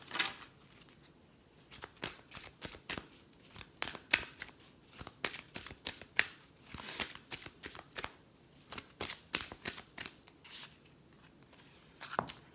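Oracle cards being shuffled by hand in a forest setting, giving a steady run of soft riffling and flicking bursts that repeat close by and fill the quiet, with no talking.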